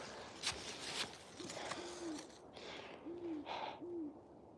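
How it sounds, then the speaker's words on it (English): Soft owl hoots at night, four short calls spaced out over a few seconds, heard at a distance against a faint rustly background. "There's the owl."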